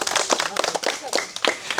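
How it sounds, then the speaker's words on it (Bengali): An audience at a chicken curry and rice eating contest claps loudly for the winner, dense close handclaps filling the whole moment, with voices mixed in. "সবাই জোরে করতালি।"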